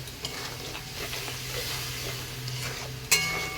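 Goat meat masala sizzles steadily in a pan as it is stirred and fried, a continuous crackle with soft scraping and a sharp metallic clink near the end.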